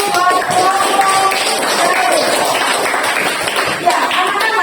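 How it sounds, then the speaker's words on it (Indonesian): Children clapping for a classroom group during a Christian religious lesson in Indonesia, a steady dense patter of many small hands running the whole time with little let-up. "Oke, tepuk tangan dulu buat kelompok."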